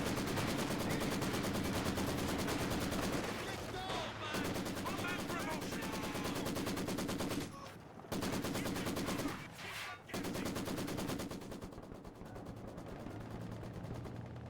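Sustained gunfire in the real-time strategy game Company of Heroes, with rapid machine-gun rattles and scattered shots forming a dense, busy battle din broken by a few brief drops, beneath occasional commentary.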